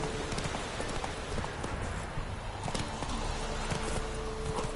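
Geralt's horse Roach clip-clopping along in The Witcher 3, a steady rhythmic run of hoofbeats close and clear over ambient game sound.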